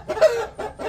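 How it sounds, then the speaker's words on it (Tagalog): Four-month-old pure-blooded Japanese Shamo chickens clucking close by at a chicken farm, two short throaty clucks in quick succession. "yung pure blooded na Shamo Japanese natin. Ayan sila."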